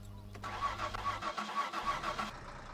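A car engine cranks and catches in the driving game My Summer Car, a short starter whir then a steady mid-pitched idle with a faint whine, fairly quiet and without talk.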